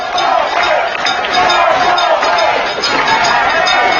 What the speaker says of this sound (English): This crowd's coming alive a little bit